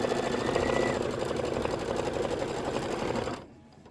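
A sewing machine stitches a Kimberbell pillow block, its needle hammering in a fast, steady mechanical rhythm up close and alone before stopping abruptly.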